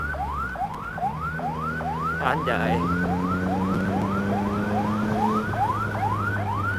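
An ambulance siren on an Indonesian road, wailing in fast repeated rising sweeps right up close, over a steady engine drone, with a brief spoken exclamation partway through.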